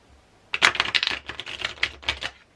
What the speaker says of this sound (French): ça tord les cartes quand même. Alors c'est bien parce que ça les mélange bien.